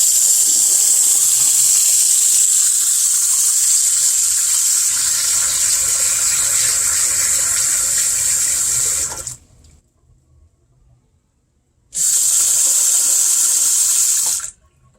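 A kitchen faucet runs with a steady, loud gush of water for about nine seconds, shuts off into silence, then flows again briefly before stopping.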